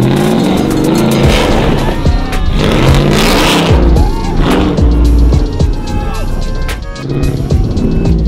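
A truck engine roars and revs hard as a stuck Ford TRX is yanked out of mud, loud and close, with surging pitch, tyre spin and spattering mud throughout.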